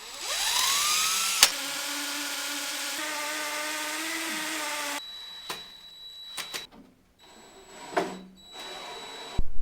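A power drill spins up with a rising whine and bores a hole into a wall for mounting a service-pit vent, steadily for a few seconds, then stops; scattered knocks and clatter follow.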